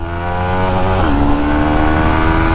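Yamaha MT-15 motorcycle engine revving hard and loud, a steady high-rpm drone whose pitch climbs abruptly partway through as the variable valve actuation kicks in, continuous with no talk.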